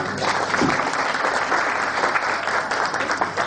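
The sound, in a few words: audience applause thanking two speakers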